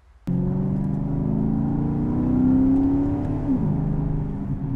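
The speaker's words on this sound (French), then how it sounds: "c'est une symphonie, la symphonie du V8 italien." The Ferrari-built 4.7 V8 of a Maserati GranCabrio fires up abruptly and revs hard, its loud, close howl climbing steadily in pitch, then easing slightly near the end.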